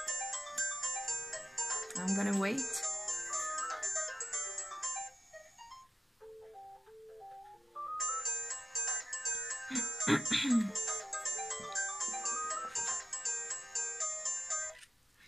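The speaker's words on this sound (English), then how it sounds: "the phone is ringing" A phone ringtone plays a repeating electronic melody, pausing briefly midway before resuming, with a voice speaking over it.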